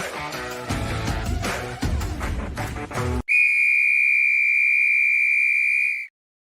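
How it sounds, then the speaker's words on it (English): Music stops abruptly and a loud, steady whistle blast sounds for nearly three seconds, then cuts off into silence. "There's the whistle."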